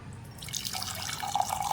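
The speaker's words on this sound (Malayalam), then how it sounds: "അതിലോട്ട് നമ്മൾ ചൂടുവെള്ളം ഒഴിച്ചു കൊടുക്കുക" Hot water pours into a bowl or jar with close trickling and dripping splashes, and a rising filling tone builds toward the end.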